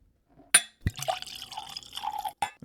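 Johnnie Walker Black Label whisky is poured into a glass at close range, a sharp clink followed by a short trickle and drips of liquid, with no talk.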